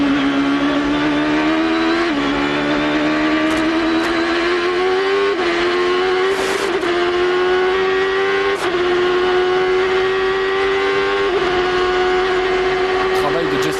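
A Champ Car racer, driven by Justin Wilson at the 2006 Denver street Grand Prix, drones loud and steady as its engine pitch dips and climbs through each corner, under a commentator's voice.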